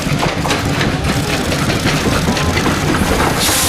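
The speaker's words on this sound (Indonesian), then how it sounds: "Widih, lokomotif kereta api." A toy train locomotive gives a steady, loud rumbling engine drone with rail-like rattling, continuous for a few seconds with no talk.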